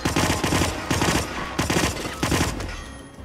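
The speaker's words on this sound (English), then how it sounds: "Who the fuck is shooting me from back here?" Rapid bursts of automatic gunfire from the Hitman video game, five or six loud volleys of machine-gun fire in a steady rhythm, fading at the end.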